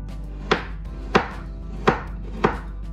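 Knife finely chopping meat for mampar soup, four evenly spaced, crisp, close chops on a board, each a sharp thud standing alone over a quiet room hum.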